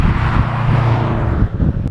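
A 305-horsepower all-wheel-drive 2019 Subaru WRX STI accelerates hard, its engine a loud, close, rising roar mixed with wind rush for about two seconds.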